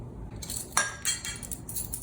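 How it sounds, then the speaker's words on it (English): Arugula and sliced grapes being tossed in a bowl, giving a few light clinks and scrapes of utensils against the dish, close and fairly quiet. "toss the arugula, which we have here, with the sliced grapes"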